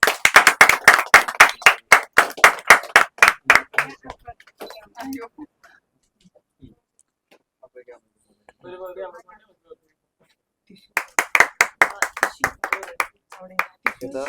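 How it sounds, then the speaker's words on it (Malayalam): Two bursts of hands clapping together by a group at a cake cutting during a First Holy Communion celebration at Mary Queen Church, Thoppil, Ernakulam, lively and close, with a quieter stretch of faint voices and small sounds between them. "കൈയടിക്കുന്ന ഒരു സൗണ്ട് ഇല്ലല്ലേ?"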